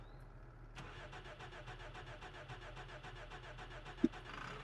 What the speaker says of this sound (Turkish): Çalışmıyor lan araba.